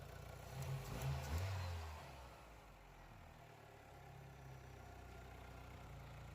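An Opel Vectra B engine idles at low volume. A brief swell of rougher engine sound comes early, then it settles into a steady low hum that continues to the end.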